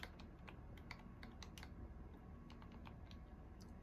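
Keyboard keys clack in a quick, irregular run of light taps while typing a search for an obby game in Roblox, close and fairly quiet over a steady background hum.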